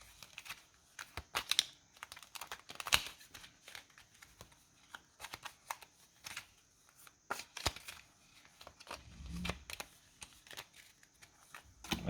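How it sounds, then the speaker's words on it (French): Playing cards being shuffled by hand in short, crisp riffling bursts that repeat irregularly, fairly quiet and close, with no voices. "On mélange les cartes pour qu'elles ne soient plus dans le même ordre."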